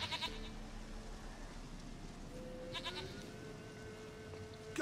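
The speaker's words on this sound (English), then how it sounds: "Goat of mine, dearest, sweetest goat." A goat in the video game Witcher 3 bleats in a couple of short wavering calls over a faint ambient game background, quiet and without talk.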